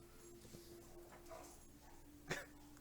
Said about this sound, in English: Sure you want the dog statue? He's growling at you.